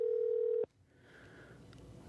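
A steady electronic telephone tone holds for under a second, then cuts off, leaving faint hiss and a quiet line.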